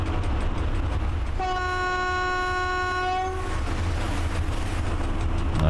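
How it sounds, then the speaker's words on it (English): A train horn from a train driving video game sounds one long, steady, loud blast over a continuous rumble of rail noise as another train leaves the station. "There is another train leaving the station."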